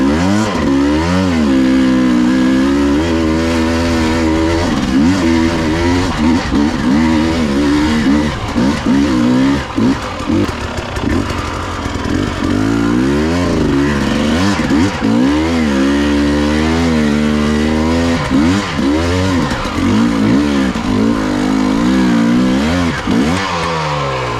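A Husqvarna TE300i two-stroke dirt bike revs hard while riding, its engine rising and falling in repeated loud throttle sweeps close by, with brief dips between bursts and no talk.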